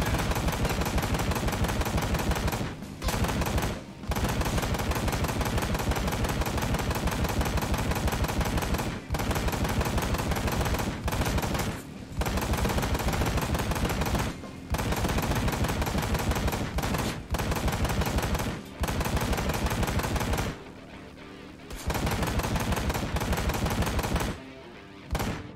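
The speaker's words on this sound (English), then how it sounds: "Let's see how many shots he takes to go down" Rapid, continuous gunfire from Ride to Hell: Retribution at a fairground shooting gallery, loud bursts hammering almost without pause, broken by short silent gaps between volleys; no speech.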